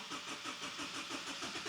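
A Mazda RX-7 fitted with a Honda engine, started after sitting nine months, runs with a steady pulsing mid-pitched engine note, close and even, with no voices.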